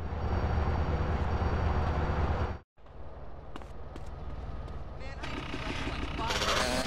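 A train in GTA San Andreas, a loud steady rumble of rolling rail cars and engine that cuts out briefly, then returns more thinly and builds again with rattling and screeching, while voices shout over it.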